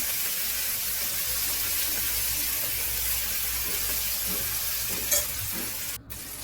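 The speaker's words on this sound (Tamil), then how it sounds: "எல்லாத்தையும் சேர்த்து ஃப்ரை பண்ணிக்கிறேன்" Spices and tomato frying for a country chicken biryani sizzle steadily and close in a pan, a constant hiss with a few soft stirring knocks near the end.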